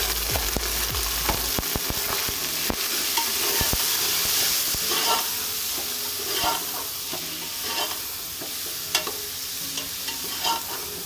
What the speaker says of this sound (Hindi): और अब हम इसमें कीमा डाल देंगे।